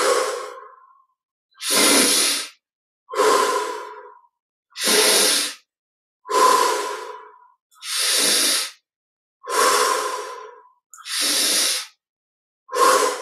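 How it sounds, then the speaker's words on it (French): Slow, steady breathing in a guided meditation: about eight long breaths drawn in through the nose and released through the mouth. Each breath is a close, airy rush separated by quiet pauses. "on inspire par le nez. Expire par la bouche."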